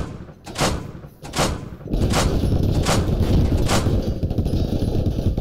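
A vehicle gunner in a military simulation game fires heavy rounds, about six loud, spaced shots at a slow steady rhythm, each followed by a rumbling tail over constant engine and battle noise.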